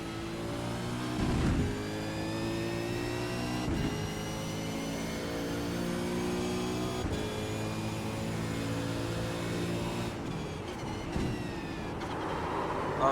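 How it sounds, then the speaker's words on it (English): A supercar engine in the iRacing sim hums and revs at a steady high pitch, a close, continuous whine with brief dips and surges, heard alone without talking. "That's a supercar if I've ever heard one."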